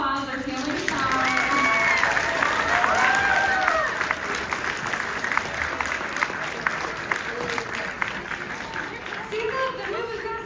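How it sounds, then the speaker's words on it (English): Crowd applause at a graduates' leadership conference award ceremony, loud sustained clapping from a large audience with cheers and whistles rising over it and voices mixed in. "Give them a round of applause."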